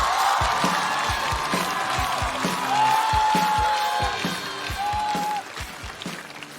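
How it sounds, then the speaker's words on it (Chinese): A studio audience on a stand-up comedy show applauds and cheers to welcome comedian Haiyu to the stage, with sustained clapping and scattered whoops under a rhythmic music beat. "掌声有请海宇。"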